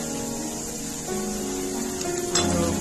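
Mustard seeds splutter and crackle in hot oil while tempering for tomato saar, a steady close sizzle with a sharper burst of popping near the end.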